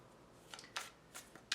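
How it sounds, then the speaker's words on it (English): Tarot cards are shuffled in three or four short, quiet riffling bursts, close but faint, with no talk. "I'm pre-shuffling now also, so I'm not going to shuffle too much longer."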